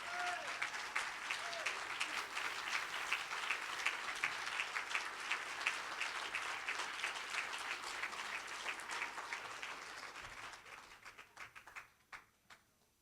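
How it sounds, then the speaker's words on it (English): An audience at a national symposium opening session applauds steadily, a sustained wash of clapping that thins into scattered claps and fades out. "give yourself a big round of applause"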